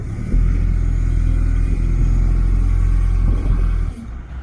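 A 4x4 TLB tractor loader works through a snow drift on a farm road, its engine a steady, heavy diesel rumble close by that strains continuously before easing off near the end.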